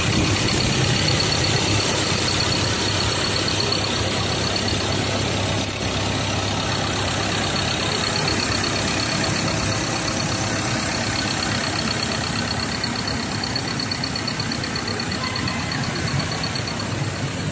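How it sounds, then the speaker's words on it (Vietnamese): Steady, even idle of a 2017 Ford Ranger XL diesel engine recorded close to the engine bay, a constant mechanical hum with a faint high whine running through it and no voices. "Máy dầu chạy êm ru luôn."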